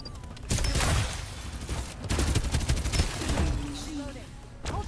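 Rapid bursts of gunfire in the video game Farlight 84 come from behind the player, clustered volleys with sharp cracks over about five seconds, with a voice speaking over part of it.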